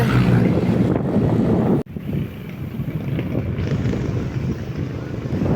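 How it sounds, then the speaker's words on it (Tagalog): Strong wind buffets the microphone of a cyclist riding near Tanay, Rizal, in the Philippines, a constant roaring rush with a brief dropout partway through before the gusty noise continues. "Lakas ng hangin."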